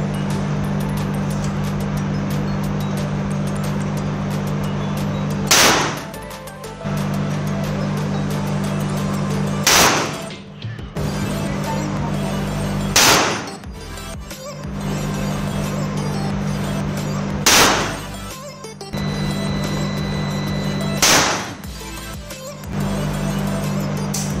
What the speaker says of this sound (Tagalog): So ayan guys, we are using the pistol revolver.